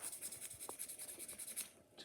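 Sandpaper lightly rubs the electrode of a spark plug in quick, faint, repeated scratchy strokes, close up, with a short pause near the end.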